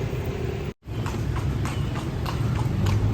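A horse-drawn carriage rolls through Lampang town in Thailand, hooves clip-clopping in a steady, close, even rhythm over constant street noise, with a brief drop to silence early on.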